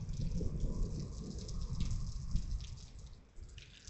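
Rain dripping and pattering during a scattered night thunderstorm, a soft, continuous irregular patter heard close and fairly faint, with no voices.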